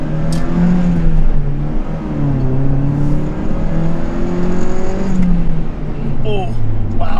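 A 2001 NB Mazda Miata's engine revs hard through the gears while being driven aggressively, a loud continuous drone rising and falling with shifts, heard from inside the car with a voice talking over it.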